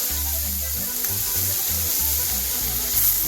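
Mustard seeds, cumin and asafoetida sizzle steadily in hot oil, a loud, close frying crackle that runs without pause throughout.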